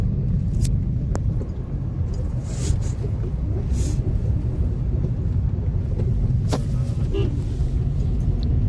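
A four-wheeler car driving toward Gavkhadi beach, heard from inside as a constant low road rumble and engine drone, with a few faint clicks and knocks over the steady noise.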